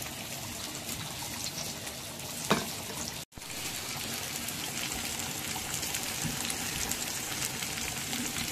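Pomfret fish frying on a hot pan, a continuous soft sizzle and crackle with one brief rattling stir midway, heard close and alone.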